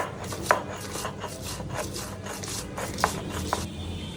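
Fried onion and cumin being ground into a spice paste on a grinding stone, a steady rubbing, rasping back-and-forth with a few sharper knocks, close and fairly quiet.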